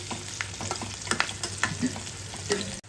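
Onion, green chilies, turmeric and curry leaves frying in hot oil, a continuous close sizzle broken by scraping stirs of a spoon in the pan, with no talking.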